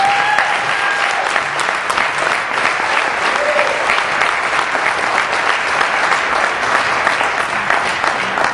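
An audience breaks into sustained, loud applause to welcome a speaker at a conference, dense clapping holding steady throughout with some crowd murmur underneath.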